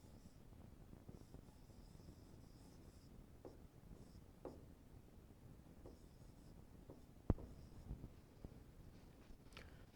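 Pen or pencil writing by hand in a classroom, a soft continuous scratching and rubbing that runs steadily for several seconds, quiet and close, with one sharp tap partway through and no talking.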